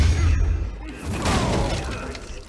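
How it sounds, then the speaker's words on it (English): A table smashed in the Batman: Children of Arkham video game: a loud crash and shatter with a heavy low thud, debris settling for a moment afterward. "we smashed the table"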